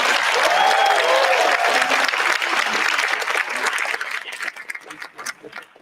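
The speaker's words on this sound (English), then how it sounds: "So I would like another round of applause for making time." A literary festival audience in Dhaka applauds in a dense, sustained wash of clapping that thins into scattered claps and fades out toward the end.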